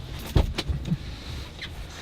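A car's power window motor whirs briefly as the glass rolls down, a short close mechanical buzz with a couple of small clunks, quiet and without talk.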